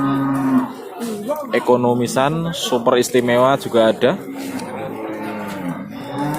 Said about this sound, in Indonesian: Sapi betina di pasar sapi Prambanan sangat banyak sekali.